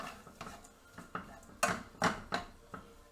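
Scraping and clinking of a utensil against a frying pan of pork fried rice with pineapple and bacon, several irregular strokes growing louder toward the middle, close by and without talk.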